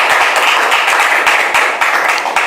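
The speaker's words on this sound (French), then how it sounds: "Allez, public, merci de le recevoir sur vos applaudissements." Studio audience applauding on a French talk show as guests are welcomed, a dense, steady wash of many hands clapping close and loud throughout, with no voices over it.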